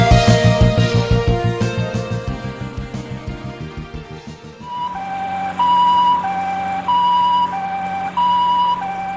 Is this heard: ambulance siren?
yes